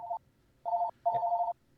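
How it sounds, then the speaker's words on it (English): A phone rings quietly in the background, three steady electronic tones in a short-long-long pattern separated by brief gaps, with no talk over it. "That's just my phone in the background"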